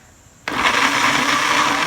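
An electric blender abruptly starts and grinds spices with cooking oil for a fish head dish, a loud, steady, close whirring roar that holds after a quiet moment.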